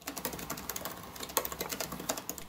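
Typing on an Apple M1 MacBook Air keyboard: quiet, steady, rapid key clicks with a few firmer taps, heard alone and close.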